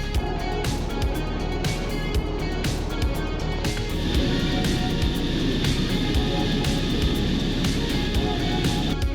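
Airplane engines roar steadily from inside the cabin during takeoff, a loud continuous rumble and whine that rises in intensity partway through, with rattling cabin noise.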